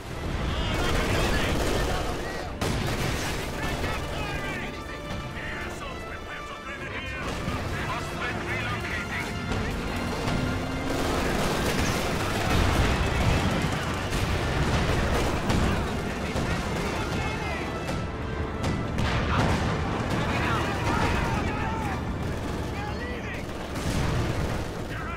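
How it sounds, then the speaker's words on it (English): Light artillery barrage in Company of Heroes 2, a dense, continuous roar of loud blasts, rapid gunfire and crashing impacts over the whole stretch, with voices talking beneath the battle noise. "Light artillery barrage at your command."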